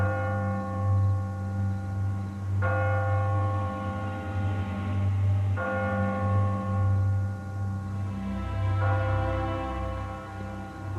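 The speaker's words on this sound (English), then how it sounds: "it tolls for thee. The bell tower." A church bell in a bell tower tolls three slow, resonant strikes, each ringing out and fading over a low steady hum.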